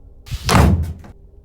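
A garage door at the bottom of a staircase slams shut with a single heavy, close thud and a brief rattle afterward.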